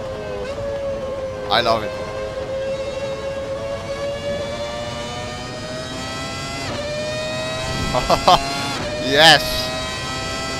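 A 1998 McLaren MP4-13 Formula One car with a V10 engine screams at steady high revs in Assetto Corsa at Spa-Francorchamps, pitch stepping through quick gearshifts, while someone talks excitedly over it.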